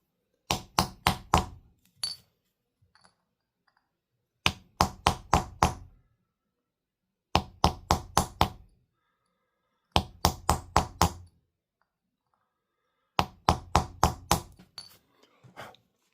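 Stone tool pecking dark desert varnish off a rock face to make a petroglyph, sharp close clinking knocks in quick bursts of four to six strikes separated by pauses.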